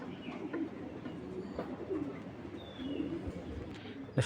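Pigeons at a pigeon farm coo in soft, low repeated phrases through steady background noise, with a louder coo near the end.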